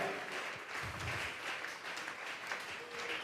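A church congregation claps together in continuous dense applause, moderately distant and fairly quiet, with a few voices faintly mixed in.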